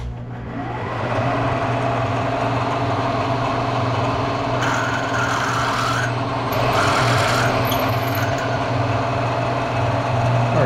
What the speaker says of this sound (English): So next I'm going to drill a 5/16 hole here.